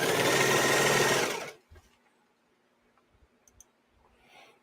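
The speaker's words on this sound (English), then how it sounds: "I almost don't even want to say that out loud in the presence of a working serger." A serger sewing machine runs in a fast, loud continuous whir, then stops abruptly after about a second and a half, leaving a few faint clicks and quiet handling sounds.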